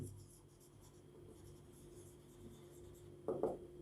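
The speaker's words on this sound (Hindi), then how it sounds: "मैं यहाँ डेविएशन लिख देता हूँ" Chalk or marker writing on a board in a physics lecture on prism optics, a quiet scratchy stroke near the end over a faint room hum, with no speech.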